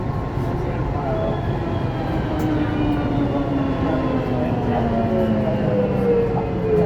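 A Siemens VAL208 automated metro train rides through Toulouse with a steady, close rolling rumble and rising and falling whine from the drive and wheels, while voices murmur in the carriage.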